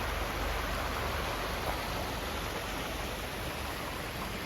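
Light rain falls steadily outdoors near a river in the Montana mountains, a soft continuous hiss with no other sounds and no voices.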